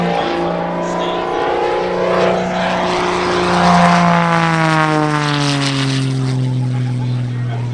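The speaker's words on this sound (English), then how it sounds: "beautiful machine, the Wolfpitch Pro" Wolf Pitts Pro aerobatic biplane at the EAA AirVenture Oshkosh airshow, its piston engine droning loud and close with a strong propeller hum whose pitch sweeps steadily downward as it passes.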